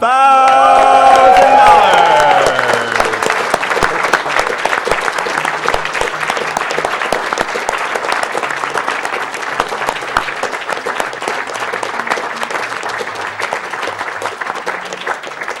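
A large audience claps and cheers at a speedrun charity marathon, Awesome Games Done Quick 2014, with dense, loud applause that continues steadily throughout.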